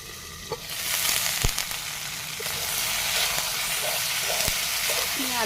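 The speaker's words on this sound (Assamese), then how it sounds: "এতিয়া আৰু অকণমান সময় ঢাকি আকৌ ভাজি ল'ম" Local chicken with taro flower and potatoes fries in a pan, giving a continuous close sizzle with occasional sharp pops and a few light stirring clinks.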